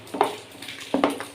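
Palm fruit batter for taler bora is stirred by hand in a bowl, giving soft wet scraping strokes in a few short bursts, close and fairly quiet, with no talking.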